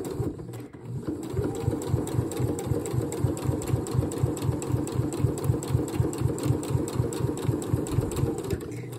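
A sewing machine stitches steadily around the neck edge of a dress at a 2.5 stitch length, its fast, even mechanical chatter running close and loud without pause.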